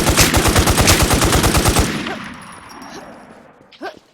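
Loud rapid machine gun fire in a video game rattles out in a fast continuous burst for about two seconds, then cuts off, leaving faint background sounds and a brief clank.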